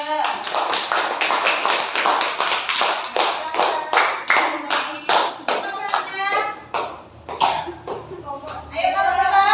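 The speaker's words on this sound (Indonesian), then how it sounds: "Beri tepuk tangan untuk kelompok" A group in a classroom gets applause: a run of sharp, rhythmic hand claps from students, close by, with a few children's voices mixed in.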